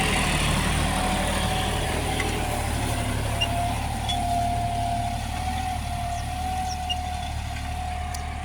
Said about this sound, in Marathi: ट्रॅक्टर आला आहे जवळ, मी तुम्हाला दाखवतो.